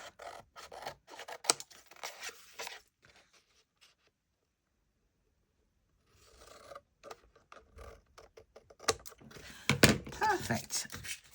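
Scissors snip along the edge of a handmade junk journal cover, a run of sharp close cuts and paper rustles, then a quiet pause before more snipping and handling noises resume.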